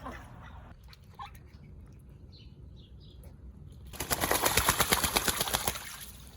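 Two ducks quack softly amid rustling and flapping wings, then a louder flurry of rapid wingbeats and splashing bursts in near the end as they do zoomies.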